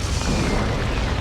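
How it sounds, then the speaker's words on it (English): An orbital strike lands in the Dawn of War 2 video game, a loud sustained rumbling explosion filling the whole moment with dense, continuous booming noise and no talk. "That's an orbital again from Lyon."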